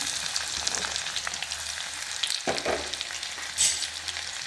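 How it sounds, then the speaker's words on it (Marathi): Chopped onion sautés in oil with a close, steady crackling sizzle, broken by a couple of stirring scrapes and brief louder bursts; no voices. "आणि हे तेलात छान 1 मिनिटभर परतून घेऊया"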